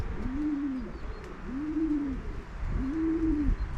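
Young homing pigeons coo nearby after landing from a training flight, three soft rising-and-falling coos spaced about a second apart over a quiet background.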